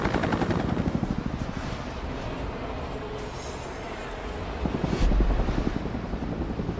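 A helicopter in the video game XIII thuds with a rapid rotor chop, loudest at the start and end of the clip, along with sharp cracks that sound like gunfire.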